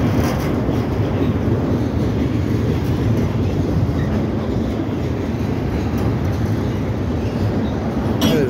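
A CSX freight train rolls steadily across the Delair Bridge, its continuous rumble and rattling wheel noise filling the whole stretch at close range without a break.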